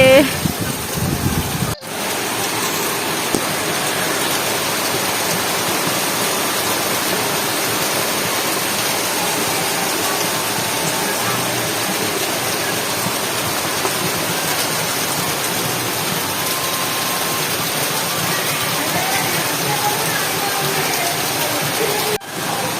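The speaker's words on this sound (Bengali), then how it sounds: "গাইস কি বৃষ্টি হচ্ছে দেখো এই বৃষ্টি মনে হয় আর থামবে না" Heavy monsoon rain pours steadily in a dense, continuous roar, close and loud, with a brief thump near the start and a break just before the end.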